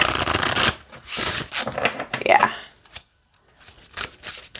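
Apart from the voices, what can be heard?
shuffling flexible cardstock oracle cards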